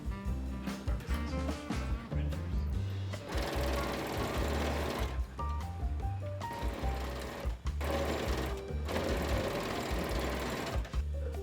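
A sewing machine stitches binding onto a square-neck cami summer dress, running in steady bursts with a few short pauses between runs, close and clear with no talking.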